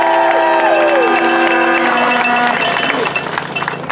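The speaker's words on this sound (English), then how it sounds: "So give him a round of applause, please." A rally crowd celebrating a state-champion high school football team cheers and applauds for a player, a loud, dense roar of clapping and shouting with bright ringing tones mixed in that thins slightly toward the end.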